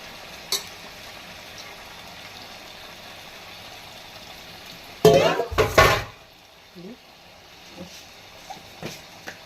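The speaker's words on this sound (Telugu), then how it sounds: "ఇప్పుడు ఈ చికెన్ని కుండలో వేసేద్దాం" Raw chicken pieces are tipped into a clay pot for a home-style curry, giving a short loud clatter and splash of about a second midway, followed by a few faint clinks against a quiet room background.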